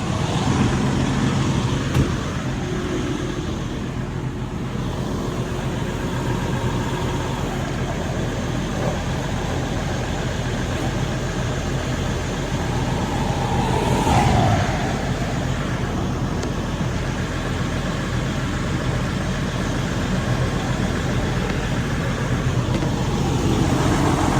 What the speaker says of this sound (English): let's rev it up, get the RPMs up, see if it starts to build air